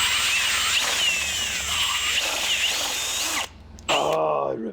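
A power drill spins sandpaper held in its chuck, giving a loud, continuous whining grind for several seconds, then it cuts out briefly and starts again with a falling, slowing whir.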